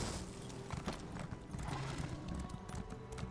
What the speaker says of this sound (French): Et donc, du coup, on va reprendre le cheval.